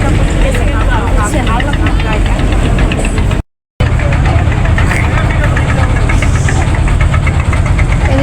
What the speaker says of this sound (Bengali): আরও একটা বোট চলে আসছে জিও ব্যাগ নিয়ে